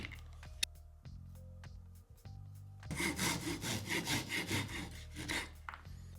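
Hand sawing through wooden dowels fitted into a shop-made push block, a dense burst of rhythmic rasping strokes in the middle of the clip, close and fairly loud, with quieter workshop taps and handling before and after.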